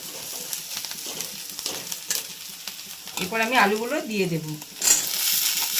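Chopped potatoes going into a pan of onions fried until red for a Bengali egg curry, a steady close sizzle and stirring with a brief voice-like tonal sound partway through.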